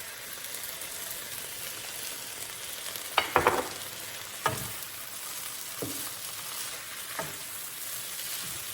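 Bok choy stir-frying in a pan with soy sauce gives a steady sizzle throughout, broken by a few sharp clatters of stirring near the middle.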